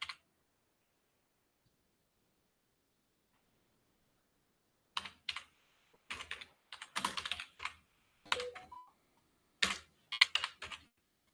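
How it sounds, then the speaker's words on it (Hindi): Typing on a computer keyboard, a lone early keystroke, then a long quiet pause before clustered bursts of close, crisp key taps in uneven rhythm, with no talking. "डिजिटल मार्केटिंग सर्विसेज हम यहां पे लिखेंगे"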